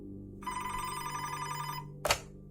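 An old-style telephone bell rings once in a single sustained burst, followed by a brief clunk as the receiver is handled, heard close and alone.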